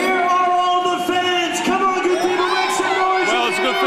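A boxing crowd at the Ryan Atkins vs Turner Ormsby bout cheers and shouts continuously, loud and sustained, with whoops and raised voices rising over the general roar.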